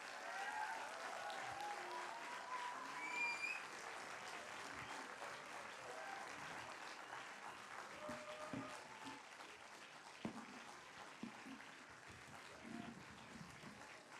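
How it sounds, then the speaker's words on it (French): Audience applause for a film's cast and crew at a premiere screening, a fairly quiet, sustained patter of clapping from a seated crowd, with a few faint voices and whistle-like tones mixed in. "Vous pouvez les applaudir, s'il vous plaît."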